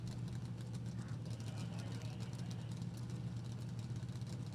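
An injected nitro drag racing car idles at low RPM at a dragway, a steady, deep rumbling engine drone with a strong low hum that keeps going without a break. A commentator's voice talks over it faintly.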